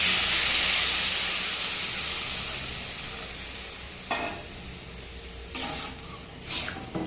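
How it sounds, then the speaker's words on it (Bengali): Water poured onto frying bottle gourd greens in a pan gives a loud, bright hissing sizzle and steam that slowly fades, followed by a few short bursts of renewed crackling near the end. "জল দিয়ে দিচ্ছি"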